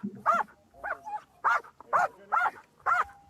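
A police dog barks six times in a steady, evenly spaced series, each bark loud and close with a harsh, sharp onset, and little background noise between them.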